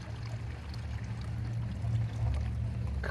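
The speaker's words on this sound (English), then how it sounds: "pour off the water, then you put it in a cleaning pan" Water poured off from a gold cleaning bowl, a steady low gurgling stream running continuously for a few seconds at moderate volume.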